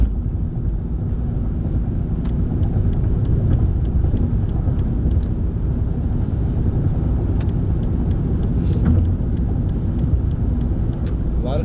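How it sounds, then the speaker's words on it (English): Heavy truck traffic rolls past on a road on a Saturday, a loud continuous rumble that never lets up, with faint ticking sounds above it. "A lot of truck traffic on a Saturday."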